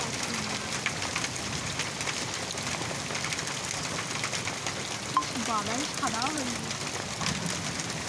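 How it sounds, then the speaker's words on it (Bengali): A dense, steady patter of hailstones striking the ground, with faint voices and a few bird chirps heard behind the noise. "কি বিরাট বিরাট শিল পড়ছে"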